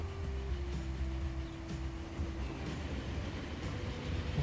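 Trains rolling across tracks in the railway management game Transport Fever, a steady low rumble of wheels and carriages with a faint sustained tone, continuous throughout with no talk.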